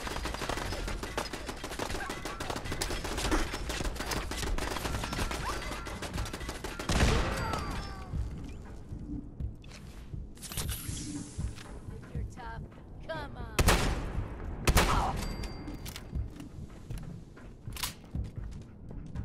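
Automated turret in the video game Fallout 4 firing in dense rapid bursts, loud and close, with heavy gunfire sustained through most of the stretch and sharp louder blasts near the end, while someone talks over it.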